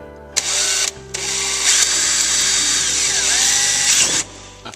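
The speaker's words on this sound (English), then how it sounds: "what we're going to do now is drill a 10mm hole through here" A power drill bores a 10mm hole through a plastic panel while a front mud flap is fitted on a Range Rover Evoque Dynamic. It whines loud and close in two bursts, a short one and then a sustained run, with a pitch that dips as the bit bites through.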